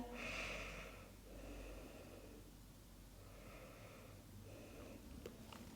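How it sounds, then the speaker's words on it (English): Slow, deep breaths drawn in and let out during a beginner yoga session, soft and close, a longer inhale followed by gentler exhales with quiet pauses between. "We're going to take 3 more breaths here."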